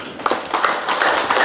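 An audience claps together through a short burst, a steady patter of many hands that is close and fairly loud.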